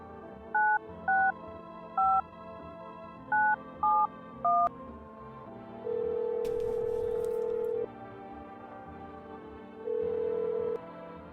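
Touch-tone dialing in a video game: six short beeps in an uneven rhythm, then two long steady line tones separated by a pause. The tones are clean and fairly loud, with no voices.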